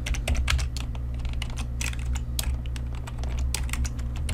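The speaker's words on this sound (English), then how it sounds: "So let's go back and just type" Rapid, steady clicking of fingers typing on a computer keyboard, with close crisp keystrokes over a low constant hum and no speech.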